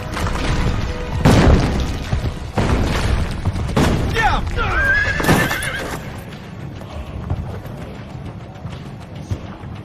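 A horse in Assassin's Creed Brotherhood neighs and whinnies loudly several times over steady clip-clopping hooves, with crashes and booming noise mixed into a busy game scene.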